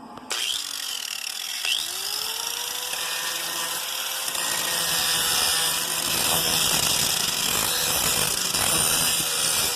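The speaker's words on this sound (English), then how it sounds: "we have to go ahead and grind this back down to the metal, which is what I'm going to do right now with the grinder" A grinder runs steadily against a rusty car body panel, taking it back to bare metal with a continuous loud whine and a rough scraping texture, alone without any talk.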